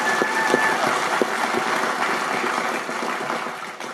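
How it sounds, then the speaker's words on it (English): A studio audience breaks into a round of applause, a dense steady wash of many hands clapping that holds throughout and fades slightly toward the end. "Round of applause."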